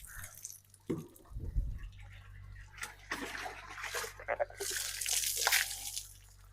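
Water splashes and drips as it is poured over a horse's legs during a wash after a workout, starting with a low splash then a busier, hissing patter of streams; a voice talks briefly in between.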